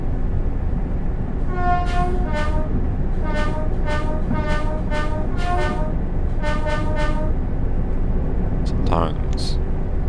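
Two-tone horn of a Class 802 train in the Train Sim World 6 video game, sounding in a series of short, loud, evenly spaced blasts over a steady, loud rolling rumble from the train.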